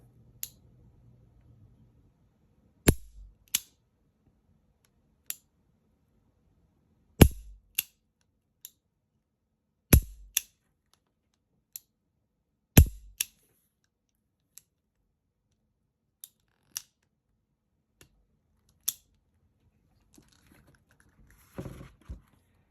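A Colt Python revolver is dry fired on snap caps, giving sharp, isolated metallic clicks spaced irregularly across a quiet background, with a few softer mechanical clicks of the action in between and a cluster of small handling sounds near the end.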